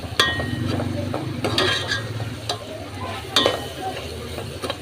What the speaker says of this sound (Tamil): இந்த எண்ணெயிலேயே இந்த மசாலாலாம் நல்லா வதக்கணும்